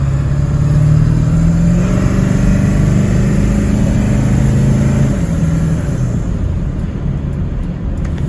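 A 7.3-litre Ford Excursion 4x4 diesel engine idles low, then rises into a hard, sustained acceleration from a slow roll with a deep rumbling roar that gradually eases toward the end.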